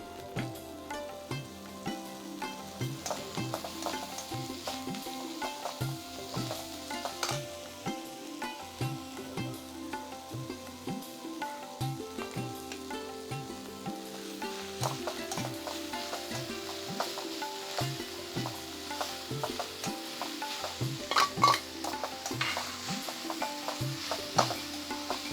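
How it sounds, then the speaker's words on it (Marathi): Boiled wild greens are stirred and fried in a pan with browned onion and garlic paste, a steady close sizzle running throughout under regular scraping strokes of a spoon. "आता आपण भाजी चांगली कांद्यामध्ये भाजलेली आहे भाजी"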